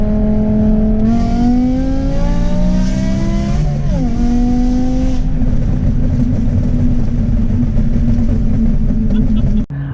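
A 2007 BMW M6 engine climbs steadily in pitch through a hard rev to 5,000 RPM, drops briefly at a gear change, then holds a loud droning note.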